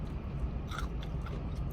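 Crispy fried chicken crunches under a bite, followed by a few close, dry chewing crackles, with no talking over it.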